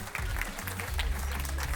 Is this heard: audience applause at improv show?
yes